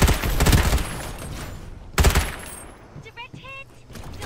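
Heavy gunfire from the Farlight 84 video game, with dense bursts of automatic shots in two loud clusters and some short electronic tones from the game afterward.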